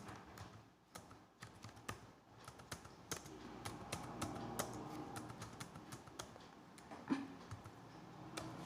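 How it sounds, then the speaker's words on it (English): Someone types a name on a computer keyboard, the soft, quiet key clicks coming in uneven bursts with short pauses between them. "I'll type my channel name"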